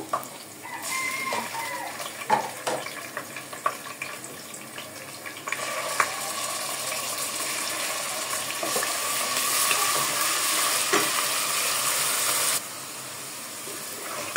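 Onion fries with ginger garlic paste for khichuri in a pan, making a continuous hissing sizzle that swells louder midway. Occasional spoon scrapes and taps come through before the hiss drops off near the end. No one talks.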